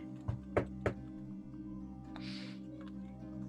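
Three dull, heavy thumps in quick succession mimic a knock on a heavy wooden door with an iron wolf-shaped knocker, fairly close and fading into a quiet hum, with no talking.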